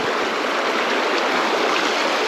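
Badger Creek, a small trout stream, rushes and burbles steadily, a dense, continuous broadband flow heard close and loud with no voices.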